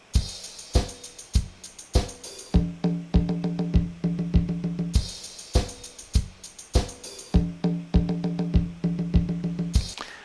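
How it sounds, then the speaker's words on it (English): A programmed drum beat loops steadily, with crisp tambourine jingles riding on top and a punchy kick and snare pattern repeating throughout. "why don't we add the tambourine in there?"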